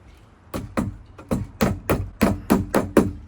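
Close, sharp hammer blows drive nails to secure electrical wire to a wooden stud in a sauna build, around ten strikes in an uneven rhythm that quickens toward the end.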